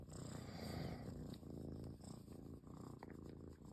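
Close, soft, continuous purring of a cat being petted, a low rhythmic rumble that keeps going alone for several seconds.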